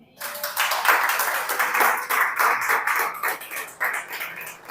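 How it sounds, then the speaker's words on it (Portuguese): A church congregation claps together in worship, dense rhythmic handclaps filling the room at steady loudness for several seconds, with a few voices faintly mixed in. "Aplauda ao Senhor."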